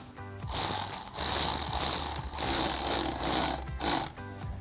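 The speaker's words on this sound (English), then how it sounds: "grab our 8mm socket, and tighten down our clamp" A ratchet with an 8mm socket tightens the intake tube clamp on a Ford F-150 (2021-2023) while a K&N Series 77 cold air intake is installed. It gives close, rapid, continuous clicking in several bursts with brief pauses, and no talk.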